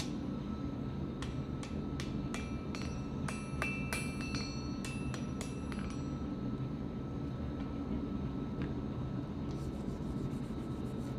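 A Damascus steel billet is hammered during forge welding: a quick run of sharp metallic strikes over a steady machine drone, then the blows stop and only the hum remains.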